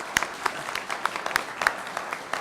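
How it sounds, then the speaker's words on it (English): Sparse, scattered handclaps from a small public forum audience, a few distinct claps spaced irregularly over a quiet room rather than a full ovation. "So let's give Kat a big round of applause."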